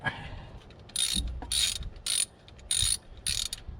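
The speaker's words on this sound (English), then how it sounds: "We're gonna pull the 1 remaining bolt here." A ratchet wrench loosening the last bolt on a 1997 Toyota Tacoma engine, five close bursts of rapid clicking separated by short pauses.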